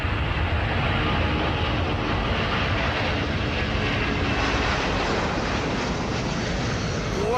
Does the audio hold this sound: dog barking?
no